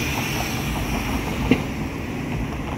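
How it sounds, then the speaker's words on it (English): A SEPTA trolley comes down the hill toward 52nd Street, giving a steady low rumble of rail traffic with a single brief clank from the wheels. "There's a trolley coming down the hill towards 52nd Street."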